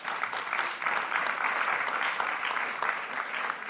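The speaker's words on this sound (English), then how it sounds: "A big applause also for Katrina, please." Audience at a conference applauding, a dense, sustained clatter of many hands clapping together, steady and fairly loud throughout, easing slightly toward the end.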